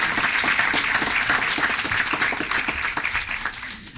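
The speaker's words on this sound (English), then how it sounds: "let's give them another round of applause" Indoor audience at a city council meeting applauding police officers, with dense, steady clapping that stays loud and gradually tapers off toward the end.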